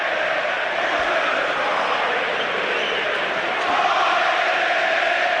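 Football stadium crowd at Ipswich Town against Chelsea late in a Premier League match, a dense steady roar of home fans cheering and chanting, swelling slightly near the end, with no talking.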